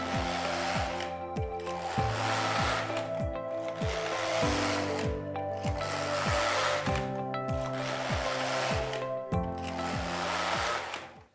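Passap Duomatic 80 knitting machine knitting rows, the carriage sweeping back and forth in a steady mechanical rhythm of whirring, clicking passes about every two seconds, close and continuous with no talk.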